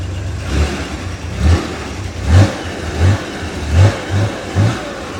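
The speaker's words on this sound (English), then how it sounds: "Very nice sounding engine." A 1964 Chevrolet Corvair's 164 cid flat-six engine with four one-barrel carburetors revs repeatedly in short, rhythmic bursts over a steady idle, with about six blips close to the microphone.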